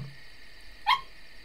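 A dog in the fantasy role-playing game Arcanum gives one short, sharp bark that stands out clearly over a quiet, faintly humming background.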